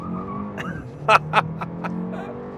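A 2025 Kia K4 GT-Line Turbo with a 1.6-liter turbo engine pulling hard at full throttle: a steady rising engine drone inside the cabin, with a few short, sharp clicks or shift noises along the way.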